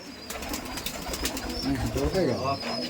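Pigeons coo indoors, with soft throaty calls rising near the end over a murmur of background voices and room noise.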